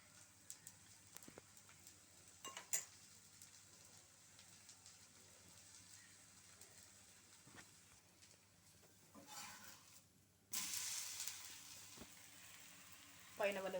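A dosa fries in oil on a pan with a soft, faint sizzle under quiet background noise, then a sudden louder burst of hissing as oil hits the hot surface, with a few light clinks along the way.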